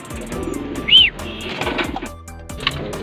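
Racing pigeons returning to their loft after a 64 km flight give soft cooing calls and a short bright chirp, with rustling, footsteps and wing movement close by.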